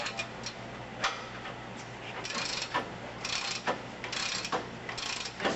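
A cheap torque wrench clicking as it reaches its set torque: a series of crisp ratcheting clicks in short, irregular bursts, close by with a steady background hiss.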